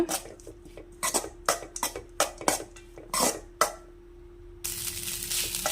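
Spiced masala rice is mixed in a pan with a metal spoon, giving a run of irregular scraping clinks and taps under a steady low hum, ending in a soft broadband hiss.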